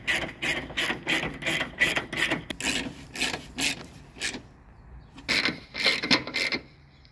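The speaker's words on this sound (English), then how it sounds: "Put your screws in now. Tighten these by hand." Screws being tightened by hand into a Toyota Camry headlight assembly, giving repeated close ratcheting, rubbing clicks in a steady rhythm with brief pauses, alone without talk.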